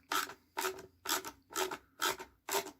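Screwdriver driving screws into a cat tipi, six evenly spaced rasping turns sounding close and clear, with no voices.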